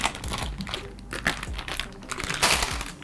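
Plastic packaging of a Sumikko Gurashi wet wipe pack crinkling and crackling up close as it is handled and torn open, with dense, irregular rustles throughout.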